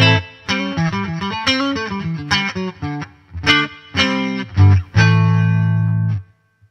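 Electric guitar played through a Nux Amp Academy set to its Fender Twin Reverb amp model: a loud, bright run of picked notes and chords that ends on a ringing chord, then falls silent.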